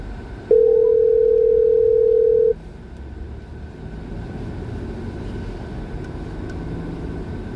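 A telephone dial tone sounds as a call is placed, one steady loud tone for about two seconds over a rumbling moving-vehicle background.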